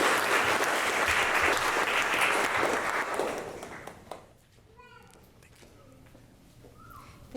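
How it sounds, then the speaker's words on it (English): Audience applause at an Immigrant Heritage Month celebration and proclamation event, loud sustained clapping for about four seconds that fades away, leaving a quiet room with a few faint sounds. "And just another big applause for all of you"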